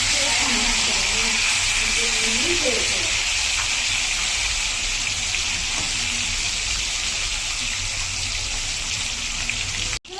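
Sardines fry in hot oil with a loud, continuous hiss and sizzle that holds steady for about ten seconds before cutting off abruptly, with faint speech underneath.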